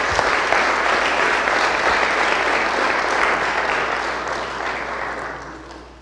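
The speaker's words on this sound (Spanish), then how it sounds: "Un aplauso, por favor." An audience at a fiberglass pipe technology expo applauds warmly, a loud, sustained clapping that gradually fades toward the end.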